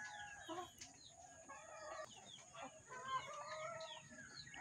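Backyard chickens clucking and a rooster crowing, fowl calls overlapping at a moderate distance, fairly faint against a quiet rural background with no talk.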